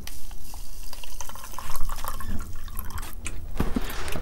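Warm water splashes and trickles into a container that already holds citric acid, filling it unevenly with some drips near the end, close and fairly loud.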